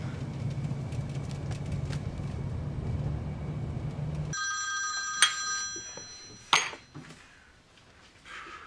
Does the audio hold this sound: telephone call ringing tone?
yes